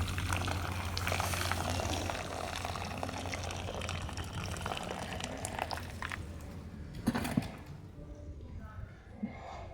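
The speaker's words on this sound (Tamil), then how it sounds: "இந்த கீரையில் இருக்கிற தண்ணியை வடிகட்டுவோம்" Water draining from boiled drumstick leaves in a village kitchen, a steady splashing trickle that runs for several seconds, then thins to faint drips and small knocks near the end.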